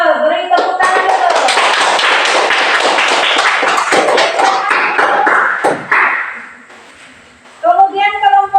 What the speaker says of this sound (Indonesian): Ayo beri tepuk tangan dulu.